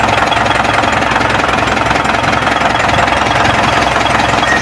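Engine of an Isuzu Elf or Mitsubishi L300 running after a full general overhaul, a loud, close, steady rattling idle with even rapid knocking pulses throughout and no talk.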